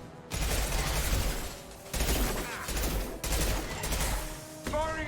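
Rapid weapon fire in Mass Effect 2 as an impact shot power is used, a string of loud, sharp bursts and clattering shots in quick succession.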